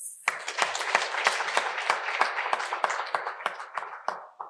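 Audience applause at a College of Human Sciences 50th anniversary celebration, with individual sharp claps standing out in an uneven rhythm over a softer bed of clapping that fades toward the end.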